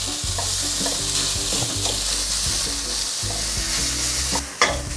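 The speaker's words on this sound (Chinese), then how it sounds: "给它大火快炒" Bean sprouts with carrot stir-fried over high heat in a wok, seasoned with salt, pepper and sugar, giving a constant loud sizzle with repeated scraping and tossing, and a clattering knock near the end.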